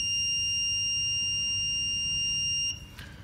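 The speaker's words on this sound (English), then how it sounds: "this process device takes the information that the light level has dropped and switches on the buzzer" Electronic buzzer in a light-sensor circuit, a steady piercing high-pitched tone that sounds continuously, then cuts off abruptly near the end, leaving faint background noise.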